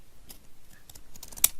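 Several quick snips of décollage scissors cutting paper, close and crisp, with a sharper final cut at the end.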